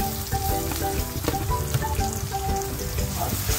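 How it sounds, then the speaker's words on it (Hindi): Onion and ginger garlic paste frying in a pan for veg pulao, a loud, dense, continuous sizzle with faint stirring underneath, close up and without any talking. "आप देख सकते हैं फ्राई होना शुरू हो गया है लाइट ब्राउन"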